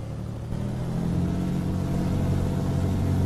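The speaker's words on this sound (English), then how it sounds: "That engine is really noisy, isn't it?" Peterbilt truck engine in American Truck Simulator, a steady loud diesel rumble with a low droning hum that swells slightly after a moment, continuous and without talk.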